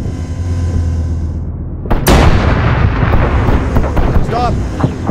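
In a video game, a tank cannon fires at an enemy tank: one sharp, heavy boom cuts in, then a long rumbling roar and scattered crackle follow beneath a continuous low engine hum.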